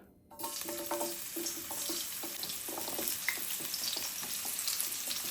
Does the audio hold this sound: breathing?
no